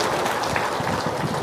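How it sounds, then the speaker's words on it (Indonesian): An audience claps together at an outdoor campaign gathering, a dense, steady burst of applause lasting only a moment with no speech over it. "Tepuk tangan dulu."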